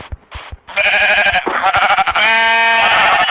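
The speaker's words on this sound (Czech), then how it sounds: "Takže jdeme na ovečku." Sheep bleating in Minecraft Pocket Edition, a loud, close, wavering bleat after a few short clicks, with no talk.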